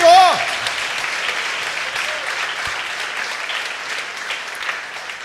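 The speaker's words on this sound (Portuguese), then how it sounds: "para esta palavra nós vamos aplaudir o Senhor" A church congregation at a morning fasting service applauding together, a broad steady wash of clapping that carries on after a short spoken phrase at the start.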